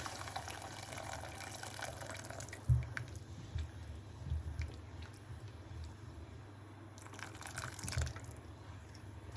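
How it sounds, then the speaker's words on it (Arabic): Water pours from a kettle into a cooking pot of simmering fish-and-rice soup base, a low steady liquid rush with a few splashes and clinks, fairly quiet. "هنحط ميه من الكاتل حوالي كوبايتين"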